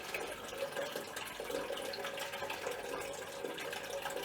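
Water flushing through beer lines during cleaning, a steady, fairly quiet stream of running liquid with a continuous hiss and slight gurgle throughout.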